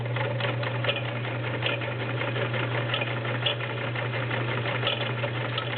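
A vintage Kenmore 1660 convertible free-arm sewing machine stitches through denim at a steady, even pace, its motor hum and rapid needle chatter running continuously at close range with no talk.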